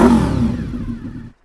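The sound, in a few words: Honda VFR motorcycle exhaust with Hawk stainless silencer revving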